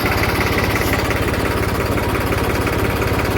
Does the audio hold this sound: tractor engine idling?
yes